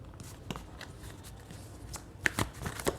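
Tarot cards are shuffled close up during a reading, giving a quiet scatter of soft riffling flicks and papery snaps, with a denser burst of slaps near the end.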